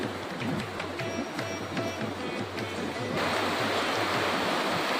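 Water rushes steadily over falls near Kateel temple, a continuous broad roar that swells louder partway through, with no voices.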